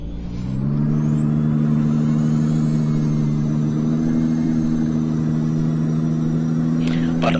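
A heavy 70-ton truck engine on a mountain road near Taza, a loud, steady low rumble that rises slightly in pitch as the driver works down through the gears, with a faint whine above.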